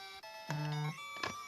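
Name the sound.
phone vibrating with a message notification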